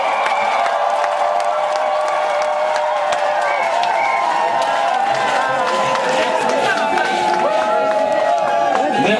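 Crowd applause at a church celebration marking an anniversary of a prophet's return to God, steady dense clapping and cheering sustained throughout, loud and even, with voices mixed in.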